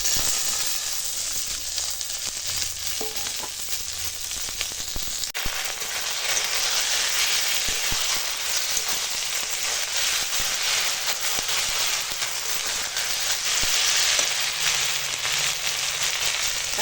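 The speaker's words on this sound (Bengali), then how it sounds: "এবার এই থালাতে আদা রসুন বাটা তেজপাতা টমেটো কাঁচা লঙ্কা সব দিয়ে দেবো একসঙ্গে" Ginger garlic paste, bay leaf, tomato and green chilli frying with onions in a pan for chicken curry, giving a steady, even sizzle and hiss that swells slightly after the ingredients go in, with no talking.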